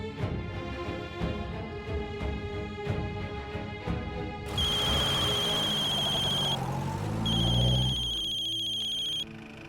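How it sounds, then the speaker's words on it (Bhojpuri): A telephone rings with bright electronic tones in two bursts, cutting in over a muffled indoor scene with a low thud and rumble partway through. "फोन बजत बा"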